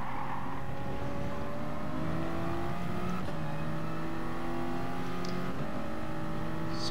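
Race car engines at Brands Hatch in Gran Turismo Sport, several cars droning and revving close together in steady, continuous roar with rising and falling pitch as they jostle for position, no talking.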